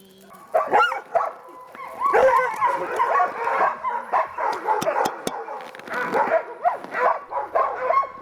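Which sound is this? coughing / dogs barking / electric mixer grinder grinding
dogs barking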